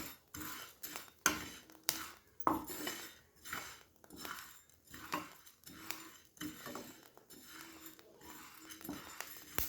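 Plain rice grains puffing into muri in a hot pan without sand, oil or salt, giving repeated scraping and clinking strokes as they are stirred, rhythmic and close, with small crackles between.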